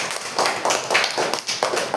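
Children in a classroom clap for themselves, a quick ragged burst of overlapping handclaps lasting about two seconds.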